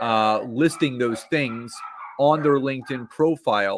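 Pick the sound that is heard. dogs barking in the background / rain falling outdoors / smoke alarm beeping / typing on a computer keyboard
dogs barking in the background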